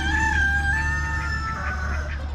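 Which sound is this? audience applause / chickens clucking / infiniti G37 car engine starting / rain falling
chickens clucking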